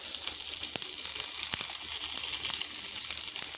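Onions and green chillies hit a small amount of hot oil, giving a steady, close, bright sizzle with faint pops and crackles running throughout, no voices.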